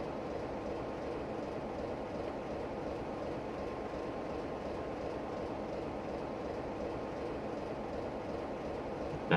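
A locomotive running round its train in a train simulator game, on a London to Faversham spoil working, gives a steady, even rumble with faint rail noise throughout and no talking.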